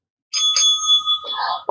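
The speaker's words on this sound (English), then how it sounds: "Let's ring a bell" A bright bell rings in two quick strikes followed by a sustained ringing tone, clear and close with no talk, ending in a brief click.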